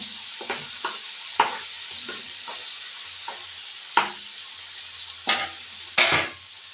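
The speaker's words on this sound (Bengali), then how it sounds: "এই মোরলা মাছগুলো ভাজা বসাবো।" Morola fish fry in hot oil in a pan with a continuous close sizzle, broken by several sharp clatters and scrapes of a utensil stirring and turning the fish.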